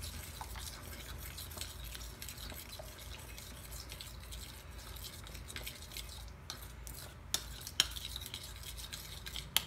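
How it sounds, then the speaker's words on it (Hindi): Quiet wet squelching and light scraping as mushroom pieces are stirred through batter in a bowl, close, with a few small clinks toward the end. "फिर हम इसको आपस में अच्छी तरह से मिक्स कर देंगे। ताकि जो हमारे पीसीज है इसमें अच्छी तरह से कोट हो जाएं।"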